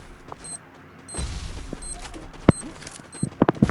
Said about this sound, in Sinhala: මම දැන් ග්‍රැනේඩ් එකක් දාන්න ඔලුවටම.